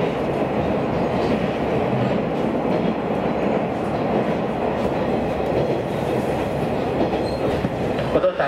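A train on a railway line in Aizu, Japan runs steadily with a continuous rumble and rhythmic clickety-clack of wheels on the rails, heard from inside the carriage throughout.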